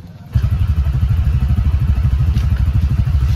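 A motorcycle on a road trip idles close by, its engine chugging in a steady low pulsing rhythm that starts abruptly and continues loud throughout.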